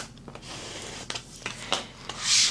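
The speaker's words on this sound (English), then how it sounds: "I'm going to put my little transfer tape on top and just kind of burnish that across" Transfer tape being burnished across a Cricut vinyl sticker, a series of short dry rubbing and scraping strokes, close and fairly quiet, ending in a brighter, longer scrape.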